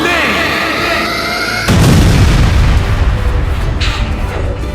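In a Sonic animation, a Chaos Grenade goes off as a sudden loud boom that cuts off a tonal sound and rolls into a long rumbling roar, with a faint whoosh near the end.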